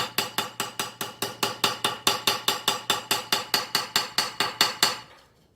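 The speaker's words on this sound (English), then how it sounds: "I came over to my anvil with a chasing hammer" Rapid, evenly spaced metallic blows from a chasing hammer planishing metal on an anvil, about two dozen bright strikes in a steady rhythm before fading to silence.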